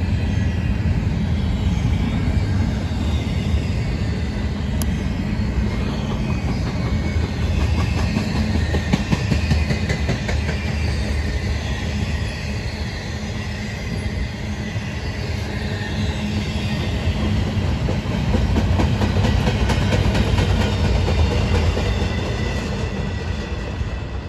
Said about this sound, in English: here comes a westbound with a Thundercab Union Pacific leading an intermodal towards Chicago